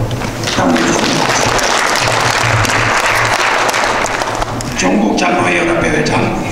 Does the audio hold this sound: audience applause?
yes